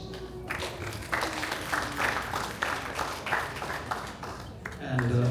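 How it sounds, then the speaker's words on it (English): Scattered applause from an audience at a community trophy presentation, a patter of claps carrying on over several seconds with background voices and room noise. "Round of applause."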